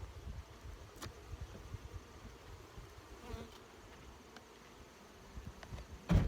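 Honey bees buzz from a large, freshly opened hive in September, a soft continuous drone close by with faint knocks and handling noises scattered over it.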